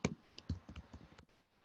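Quiet computer keyboard typing: a short burst of about a dozen soft, irregular key clicks over under two seconds, then stillness.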